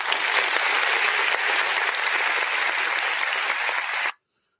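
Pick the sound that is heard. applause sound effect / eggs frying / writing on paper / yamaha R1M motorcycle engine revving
applause sound effect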